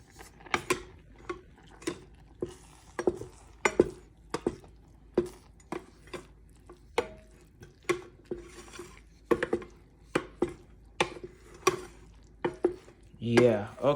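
A spoon stirring fried rice in vegetable broth in a pot, giving repeated sharp scraping knocks at an uneven rhythm for about fourteen seconds, close and fairly loud over a faint background.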